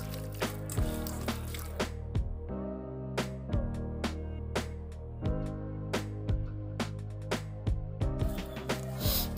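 Chicken curry marinade is mixed by hand with spices and potatoes, giving close wet squelches and scattered sticky clicks in an uneven rhythm over a low background drone.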